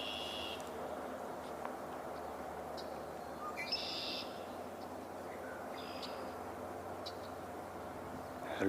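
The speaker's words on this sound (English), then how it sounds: "Oh, just heard a song sparrow" A song sparrow sings faintly in the distance outdoors in spring, a few short high notes and bursts scattered over a steady background hiss.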